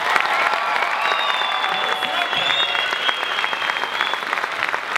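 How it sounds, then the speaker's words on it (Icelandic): Dense, steady applause with a few cheers from a dance-school audience at the close of a student Lion King show, sustained and fairly loud throughout with no talk over it. "Ef ekki að gefa þessum frábæru nemendum gott klapp svona í lokin."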